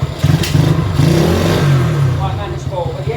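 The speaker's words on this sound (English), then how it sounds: "This exhaust is so loud I have to take it apart and put some wadding in it." Loud, raspy exhaust of a custom Honda C90 motorcycle engine running and revving up close, a throbbing burble that swells and settles, with a voice speaking over it at moments.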